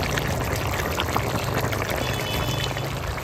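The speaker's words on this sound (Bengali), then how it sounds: "সব সবজি একসঙ্গে কষিয়ে নিয়েছি, এবার জল দিয়ে দেবো।" Water poured into a pan of sautéed mixed vegetables with peas for a village-style veg biryani, a steady close rushing stream with no talking.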